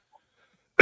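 A single sharp sneeze bursts out at the very end after near silence, loud and close, lasting a fraction of a second.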